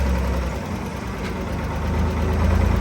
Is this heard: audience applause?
no